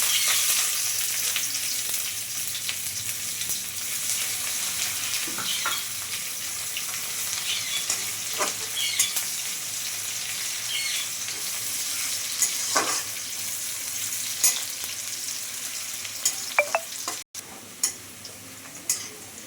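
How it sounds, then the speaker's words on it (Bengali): Chopped onion, torn bay leaf pieces and whole cumin sizzle steadily in oil in a pan, with a continuous hiss broken by occasional stirring clicks and scrapes, close and alone. "দিয়ে দিচ্ছি দুটো তেজপাতা টুকরো করে ছিঁড়ে। এক মুঠো কুচনো পেঁয়াজ।"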